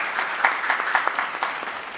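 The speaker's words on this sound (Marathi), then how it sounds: "एकदा जोरदार टाळ्या झाल्या पाहिजे" Loud, dense applause from a live audience at a Holi comedy poetry show, with a steady wash of claps and a few sharper bursts throughout, and no voices over it.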